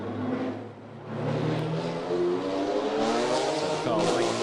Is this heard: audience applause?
no